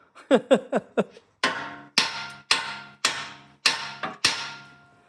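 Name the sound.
hammer thumping steering ball joint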